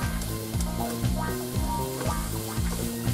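Garlic and shallots sizzle and crackle steadily in hot oil while being stirred, a continuous frying hiss mixed with a prominent tonal melody running throughout.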